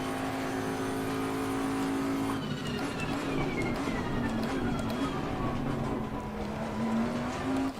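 A race car engine at Oulton Park circuit revs and accelerates loudly, its pitch climbing and settling across several gear changes, with a steady close roar throughout and some tire noise.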